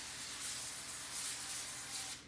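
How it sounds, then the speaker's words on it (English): Cooking spray hisses onto a baking sheet in one continuous, close, fairly soft burst lasting about two seconds before cutting off. "we're gonna spray our baking sheets, or sheet"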